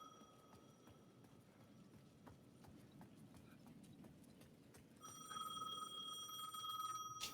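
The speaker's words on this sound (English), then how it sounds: "The payphone at the edge of the plaza was ringing again." An electronic payphone rings loudly and steadily at the edge of a plaza over faint outdoor ambience with clopping hooves, following a quieter tone before it.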